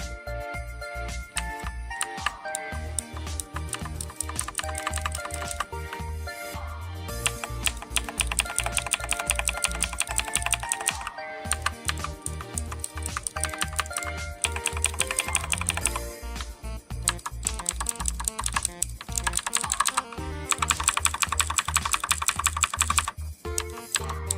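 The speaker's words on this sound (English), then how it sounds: "the right arrow key and the right control key is almost linear and it doesn't click as smoothly as the other keys" Rapid, steady typing on a Siig mechanical keyboard with clicky Outemu Blue switches, the keystrokes dense and continuous throughout at close range with no voice.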